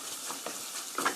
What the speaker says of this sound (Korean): 고추장이 맛있게 잘 볶아졌습니다. 이렇게 볶아 놓으시고요.